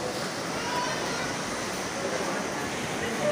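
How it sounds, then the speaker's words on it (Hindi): Heavy rain pours outside, a steady, dense, hissing roar that runs unbroken throughout at moderate loudness. "बाहर बहुत तेज़ बारिश लगी हुई है"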